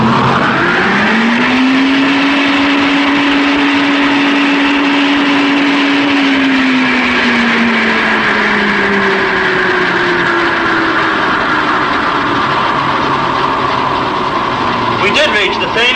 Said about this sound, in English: when we start the blower, we should expect the same speed as before